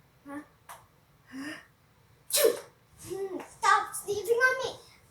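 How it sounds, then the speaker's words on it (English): Fake sneezes performed as a prank, a loud sharp sneeze burst amid a voice talking and exclaiming close to the microphone. "Stop sneezing on me."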